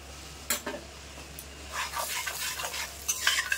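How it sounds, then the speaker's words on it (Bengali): Ground cumin, coriander, Kashmiri chilli and turmeric fry softly in a pan while a utensil scrapes and stirs them in scattered, light bursts. A low steady hum runs underneath. "দিয়ে মশলাটা একটু ভেজে নেব।"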